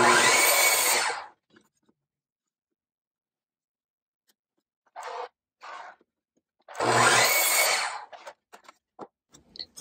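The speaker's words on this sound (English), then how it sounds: "I'm going to grab some of these and I'm going to cut them down into 1 foot pieces" Power saw cutting cedar fence pickets into one-foot pieces: two loud, close bursts of cutting about a second long each, separated by silence, with shorter knocks and handling sounds of wood between them.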